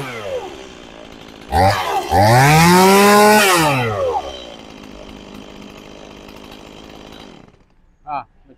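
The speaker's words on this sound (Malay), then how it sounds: "saya nak bagi tunjuk cara mudah nak hidupkan Stihl" A Stihl MS180 chainsaw is pull-started and fires up loud and close, revving high for a couple of seconds and then settling into a steady idle before cutting out, with a short burst of speech at the end.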